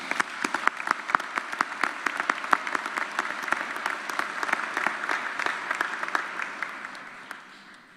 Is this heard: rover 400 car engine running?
no